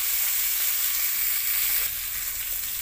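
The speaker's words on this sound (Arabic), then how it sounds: "بصوا تشويحه الارنب" Rabbit pieces sautéing in a pan, giving off a loud, continuous close-up sizzle with a hissing, frying texture that eases slightly near the end.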